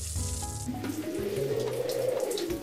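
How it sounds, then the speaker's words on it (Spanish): Water runs from an opened tap in a quiet indoor setting, a steady, soft flow that swells slightly as it continues, heard alone with no talking. "O alguien abre el grifo."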